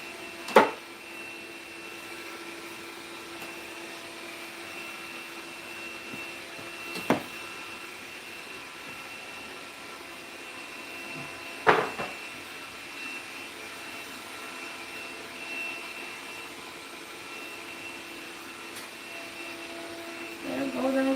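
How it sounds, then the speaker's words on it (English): A household vacuum cleaner droning steadily during home cleaning, a constant whine broken by a few sharp knocks and bumps, with no talk over it. "The vacuuming sound is a little bit disturbing. I'm sorry for that, but I really need to vacuum."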